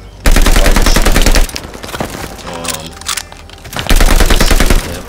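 Video game gunfight with automatic gunfire while the player jumps: two loud sustained bursts of rapid shots at the start and end, with quieter distant shots and a faint voice between.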